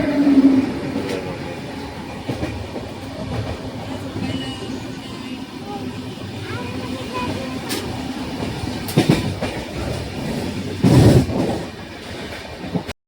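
An Indian passenger train runs along the tracks, a steady rumbling roar with occasional clanks and louder jolts near the end, heard from inside a carriage with faint background voices.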